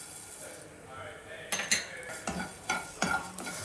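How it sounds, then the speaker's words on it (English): Mustard seeds, cumin and coriander seeds frying in oil in a pan for ginger pickle, a faint sizzle with a spoon scraping and stirring in four or five quick strokes, close and quiet. "Fry until it changes its color."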